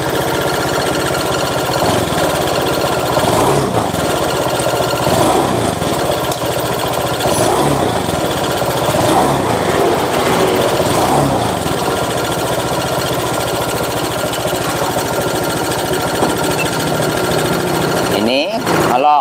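A Honda Vario scooter engine runs with an abnormal, harsh rattling noise, a loud steady mechanical clatter that continues throughout with speech over it.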